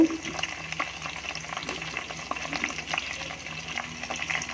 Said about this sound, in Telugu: పచ్చిమిర్చి, కరివేపాకు వేగుతున్నాయి